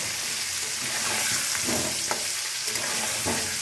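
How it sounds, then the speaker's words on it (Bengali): Potato pieces seasoned with salt and turmeric fry in oil, giving a steady close sizzle with occasional soft stirring scrapes and no voices. "আলুটা বেশ লাল লাল করে ভাজা হয়ে গেছে"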